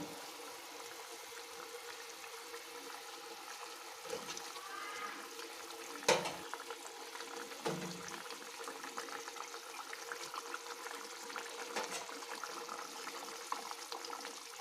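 Pomfret fish pieces cook in a pan with a ground dried red chilli paste, giving a soft, steady bubbling and sizzle. A few louder clatters come as the pieces go in, with no talk.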